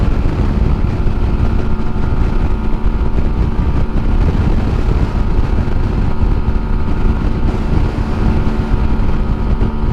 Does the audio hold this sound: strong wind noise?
yes